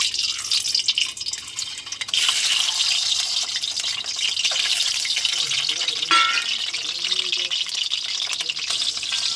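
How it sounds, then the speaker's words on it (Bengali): Peeled boiled eggs fry in hot oil in a wok, giving a bright, continuous hiss that swells louder after the first couple of seconds, with brief soft crackles and a faint voice in the middle. "তো ডিমগুলো আমি ভেজে নেব।"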